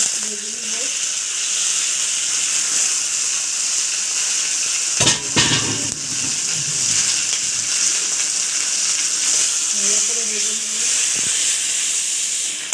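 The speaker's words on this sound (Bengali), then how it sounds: "এইভাবে মাছের মাথা ভেঙে ভেজে নেবেন" Broken catla fish head pieces fry in a pan with a loud, steady hiss and sizzle, interrupted midway by a burst of stirring and scraping, then settling back to constant frying.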